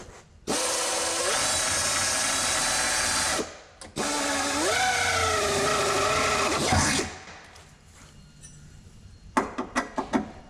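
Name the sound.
drill boring a hole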